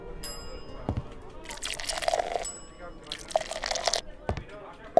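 Glasses of water being poured in the tavern game Travellers Rest, short splashing, trickling bursts of liquid with a few drip-like plinks, heard under someone talking.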